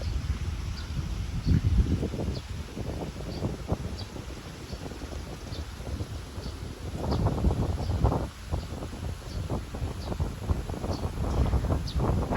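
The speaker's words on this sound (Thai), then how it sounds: "อันนี้ก็จะเป็นลมทะเลนะคะ" Sea wind blows at a beach in Pattaya, a gusty rushing buffet against the microphone that rises and falls, with faint rustling beneath.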